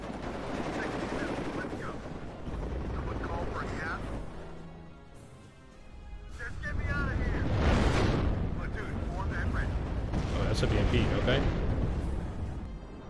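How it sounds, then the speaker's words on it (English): Autocannon fire in the WARNO strategy game, heavy rumbling bursts and explosions that swell midway and stay loud under someone talking. "I'm just gonna go autocannon crazy over here"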